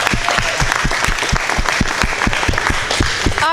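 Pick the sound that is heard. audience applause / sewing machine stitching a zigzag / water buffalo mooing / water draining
audience applause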